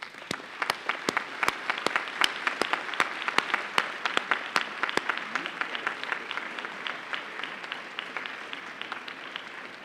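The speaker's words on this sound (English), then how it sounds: "I'd like you to applaud those that have helped you along your way." A graduation audience applauding, brisk close clapping with sharp individual claps standing out at first, settling into dense steady applause across the room.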